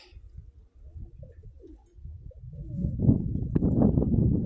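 Pigeons coo near a loft as racing birds are released to fly home, soft calls at first, then a denser, louder flurry of cooing and wing sound.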